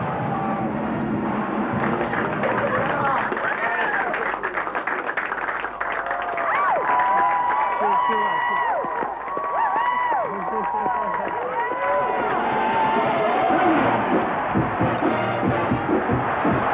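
A basketball arena crowd at a 2001-02 NCAA college game between Stanford and Arizona keeps up a steady roar and cheering, with people talking over it throughout.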